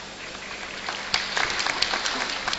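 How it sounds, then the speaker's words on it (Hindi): A live audience claps through a spoken talk, a steady patter of many hands with a few louder, sharper claps rising above it, moderately distant and continuous. "आप किसके लिए ताली बजा रहे हैं?"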